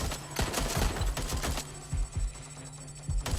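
Rapid bursts of automatic gunfire in the video game Watch Dogs: Legion, loud and close, crackling in quick irregular volleys for several seconds before briefly pausing and resuming.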